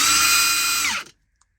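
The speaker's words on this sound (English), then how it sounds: "So this is just a regular high torque, non-ultra. See how it sounds?" A Hercules high-torque impact wrench spins up close and loud at full speed for about a second, then winds down quickly to silence.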